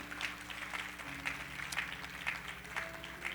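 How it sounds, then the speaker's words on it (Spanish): A church congregation claps steadily in rhythm during a worship service, with sustained music or voices droning beneath the evenly spaced, fairly loud hand claps. "Dele un aplauso fuerte al Señor"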